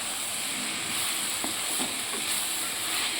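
Steady sizzling of vegetable paneer thokku frying in a pan, with faint scraping taps of a spoon stirring mixed into the hiss, heard alone without talk.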